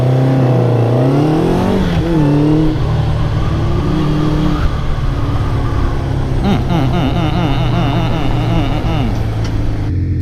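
A Honda Nighthawk CB700SC motorcycle ridden slowly on 14-year-old tires, its engine loud and close, rising and falling in pitch with throttle changes and rev sweeps throughout.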